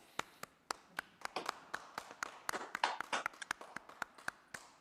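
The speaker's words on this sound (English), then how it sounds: "Perhaps myself and all of council can give you a virtual applause." A council meeting gives a round of virtual applause, with scattered, uneven hand claps from a few people, quiet and close, that pick up in the middle and then thin out.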